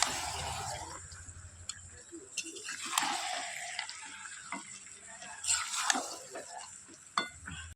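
Meat frying beside mango chutney in a pan, faint sizzling with intermittent spatula scrapes and taps against the pan, and a voice speaking softly at times.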